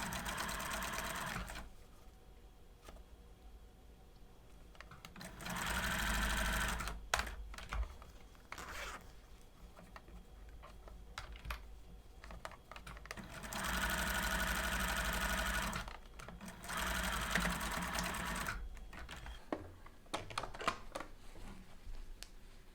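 A sewing machine runs in several stitching bursts of a few seconds each, separated by quiet pauses with small handling sounds.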